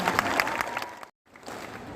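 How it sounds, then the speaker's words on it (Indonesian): A brief burst of group clapping at a school gathering at SMP Negeri 2 Purwodadi, fairly close, that cuts off abruptly into silence before soft background noise returns. "Tepuk tangan untuk kita semua."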